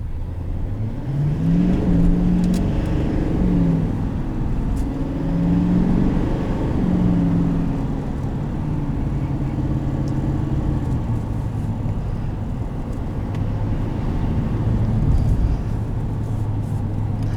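A 2020 Chevrolet Silverado 2500 Alaskan Edition pickup accelerating hard with its rear tires spinning, a steady loud engine drone rising and falling in pitch over several pulls, heard from inside the cab with no talk.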